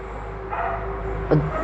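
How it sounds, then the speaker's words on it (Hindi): Dogs bark somewhere in the distance, one brief yelp standing out near the end of the short stretch over a low steady background hum. "कुत्ते भौंक रहे"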